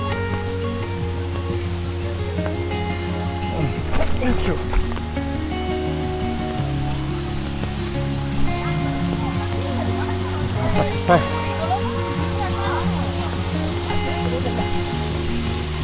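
A small waterfall, Vattayi Waterfalls, rushes steadily throughout, a continuous wash of flow under scattered voices and some irregular clatter.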